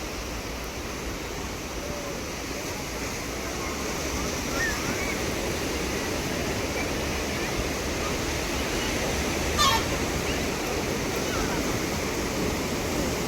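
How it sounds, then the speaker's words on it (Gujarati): Sea waves wash onto a seashore in Chennai, a steady, broad roar of surf that holds fairly even and close throughout, with no clear voices over it. "આ સમુદ્ર કિનારો છે"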